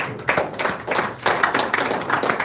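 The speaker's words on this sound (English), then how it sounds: "the three chairmen deserve a round of applause" Applause at a joint press conference honoring three chairmen, a handful of nearby hands clapping in an uneven, fairly loud rhythm.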